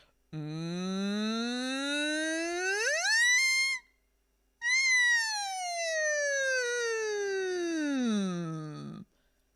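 A voice hums a fire engine siren imitation as a vocal exercise, sliding steadily upward in pitch, pausing briefly, then gliding slowly back down, clear and close.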